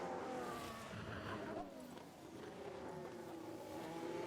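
An F1 car in the F1 Manager video game pushes through a qualifying lap, a continuous high engine whine with a dip and rise in pitch, faint and steady throughout.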